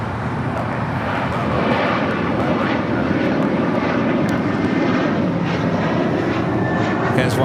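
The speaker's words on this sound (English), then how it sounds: "Rolling down 25 right now is American Airlines flight 2837 heading to Charlotte in an A321" An American Airlines A321 jet rolls down runway 25 right at LAX on its takeoff run, giving a constant, broad engine roar heard from some distance. A voice may be faintly present under the noise.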